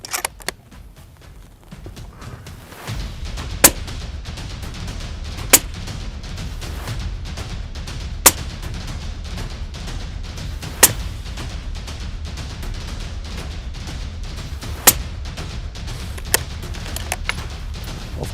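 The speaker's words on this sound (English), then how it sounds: "We're going to shoot at the left-hand side target, 5 consecutive shots." Five rifle shots from a Tikka T3X CTR in 6.5 Creedmoor fire one at a time at a target. Each is a sharp, loud crack, spaced a few seconds apart over a steady low outdoor rumble, with no talking.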